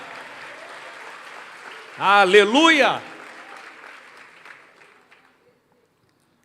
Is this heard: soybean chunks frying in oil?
no